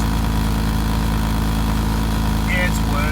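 A car engine idling with a leaking exhaust after a cheap repair, a steady low rumble and throb close to the microphone.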